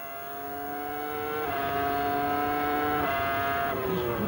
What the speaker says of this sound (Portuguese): O Schumacher vai continuar apertando o Montoya. Vai um pouquinho junto com o Schumacher aí, ó